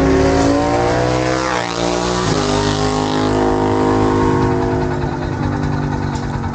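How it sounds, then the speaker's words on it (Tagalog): Motorcycles drag racing near Kaybiang Tunnel in Maragondon, loud, close engines revving hard with rising and falling pitch as they pass, continuous with no talking. "Yung mga motor na yan, nagda-drag race sila."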